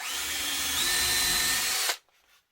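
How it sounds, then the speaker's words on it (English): A power drill without a countersink bit bores a hole in wood for a screw, a loud steady whine lasting about two seconds before stopping abruptly, close and without talk. "this one is only the drill without the countersink"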